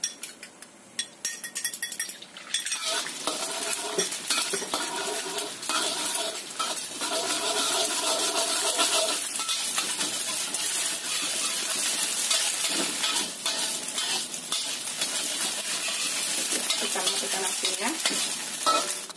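Scrambled eggs fry in a little heated oil, giving a loud, continuous sizzle with the scrape and clink of stirring throughout.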